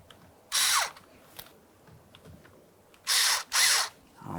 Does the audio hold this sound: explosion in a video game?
no